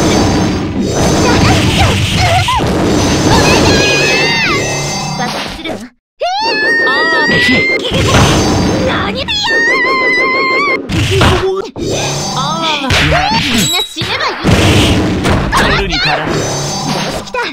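Crashing impacts and blasts from a Mugen fighting game bout between Tokido Saya and Kumagawa Misogi, loud and continuous, mixed with shouting character voices and brief gaps.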